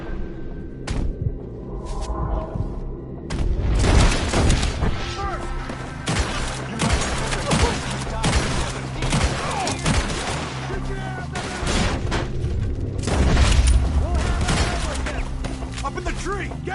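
Gunfire from the video game Red Dead Redemption 2 rings out in a steady volley of loud shots and echoing cracks, repeated throughout, with voices shouting over the shooting.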